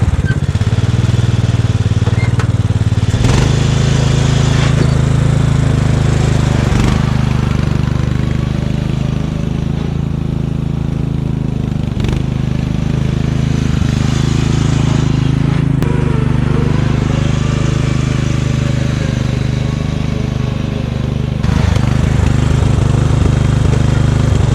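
A small engine vehicle used for leaf work drones loudly and steadily as it drives fast in reverse, the close, continuous motor note shifting slightly with a few brief throttle changes.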